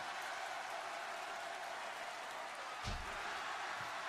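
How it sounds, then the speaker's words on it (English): A WWE broadcast crowd cheers for Randy Orton during his match against John Cena, a steady roar of arena noise filling the whole stretch, with a brief thud partway through. "Crowd are loving Randy, man."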